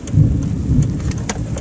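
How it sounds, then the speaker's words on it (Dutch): Heavy rain pours down during a violent June thunderstorm as deep rumbling thunder rolls close and loud, with no voices over the storm. "Maar we zitten nu omcirkeld door onweer."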